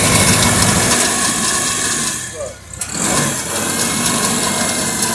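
A Farmall Cub tractor engine runs steadily at half choke with the governor engaged, a continuous close mechanical drone that dips briefly midway before settling back to an even run.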